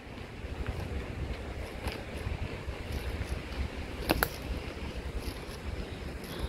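Steady wind blowing across an outdoor space at Tai Tam Reservoir, Hong Kong, with a continuous rushing noise and microphone buffeting, plus a brief clatter midway.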